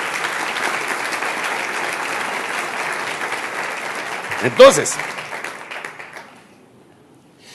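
A church audience breaks into sustained, loud applause that holds steady for several seconds, then tapers off as a preacher's voice cuts in and the clapping dies away to near silence.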